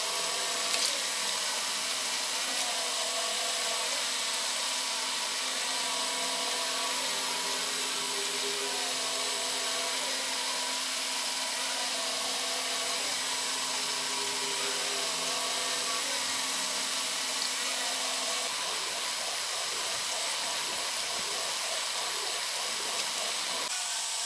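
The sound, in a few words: Makita drill running at its lowest speed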